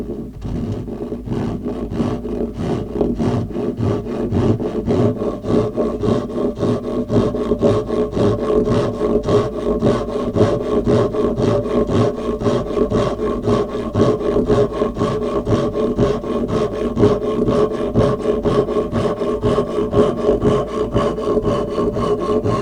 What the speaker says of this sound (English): it's going to give my saw somewhere to sit so that I can start this cut nicely